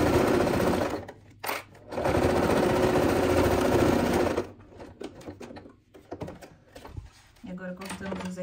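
A sewing machine fitted with a size 16 needle stitches fabric in a steady, loud run for a few seconds, stops briefly, then runs again, followed by quieter handling sounds and a short final burst; a voice talks at moments.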